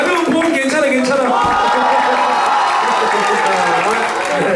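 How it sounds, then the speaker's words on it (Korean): Audience applause at a military concert for 2nd Operations Command troops, sustained and dense clapping from a crowd mixed with cheering and shouting voices throughout. "박수! 박수!"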